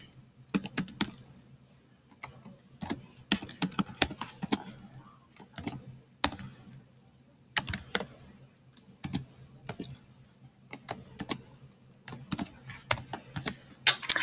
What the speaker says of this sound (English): And you just type all that in your calculator.